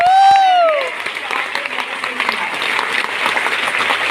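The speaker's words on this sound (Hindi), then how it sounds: "तो एक बार तालियां बजाइए" An audience at a company career gathering bursts into sustained applause, with dense, loud clapping that follows a brief rising tone and keeps going to the end.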